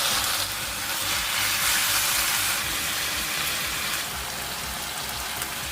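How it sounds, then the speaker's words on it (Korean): Marinated pork shoulder stir-fries over medium heat in a pan with scallion oil, making a dense, close, continuous sizzle and hiss that fades slightly toward the end, with no talking. "대파를 가장자리에 제쳐두고 양념에 둔 고기를 넣고 중간불에서 볶아주세요"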